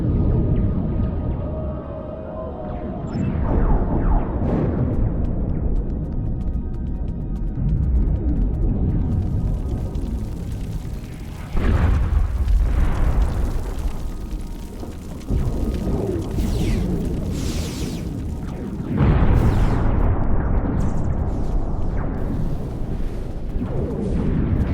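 In a video game, an explosion destroys a force field emitter: deep, heavy booms and rumbling blasts repeat over a sustained roar, with several loud impacts spread across the stretch.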